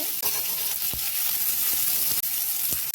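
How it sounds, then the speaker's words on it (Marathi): Onion dropped into hot oil already seasoned with mustard seeds and cumin, hissing in a loud, dense, continuous sizzle close by, with a few brief gaps. "कांदा टाकून घ्यायचे,"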